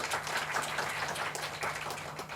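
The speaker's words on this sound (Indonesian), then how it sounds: "Kalau Anda mau tepuk tangan sekali lagi." An audience claps at an agent gathering event, a brief, soft, dense patter of many hands heard from a distance in a large room.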